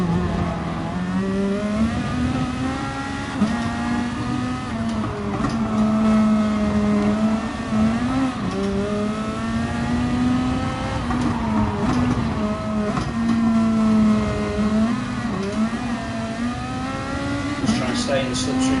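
Gr.2 race cars lapping Fuji in an online Gran Turismo Sport daily race give a continuous, loud, wavering engine drone that rises and falls with shifts, with someone talking over it throughout.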